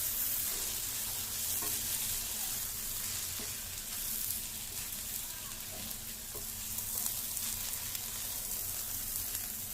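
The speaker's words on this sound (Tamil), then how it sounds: "இந்த மசாலா போட்டதுக்கப்புறம் ஒரு 2 நிமிஷம் லைட்டாக பரட்டி விட்டால் போதும்." Masala being stir-fried in a pan for Tirunelveli-style boom paruppu, a steady close sizzle with occasional spoon scrapes and stirring taps running throughout.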